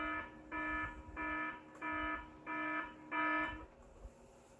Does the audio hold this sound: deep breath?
no